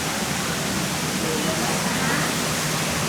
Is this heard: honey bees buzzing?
no